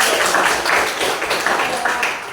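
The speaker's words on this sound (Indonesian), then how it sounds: "Tepuk tangan dulu." A classroom of students gives a short round of applause, steady dense clapping close by for a couple of seconds with faint voices mixed in.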